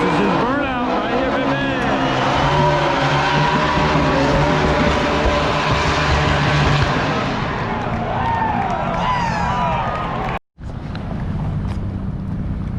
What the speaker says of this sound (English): This is his burnout right here